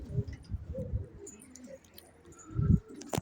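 Soft low pigeon coos come in short bursts, with a louder coo near the end and a faint high chirp just after.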